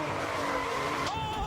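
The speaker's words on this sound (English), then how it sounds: "Oh, he's crashed." A single-seater racing car crashes during a Superleague Formula race at the Nürburgring in 2010, giving a brief tyre screech and scraping skid, fairly faint against track noise, with a sharp change near the end.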